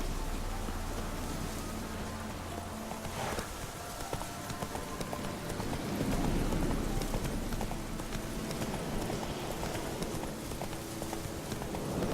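Hoofbeats of the horse Roach in The Witcher 3 video game, a steady clip-clop of galloping hooves running through the whole stretch at moderate loudness without talk.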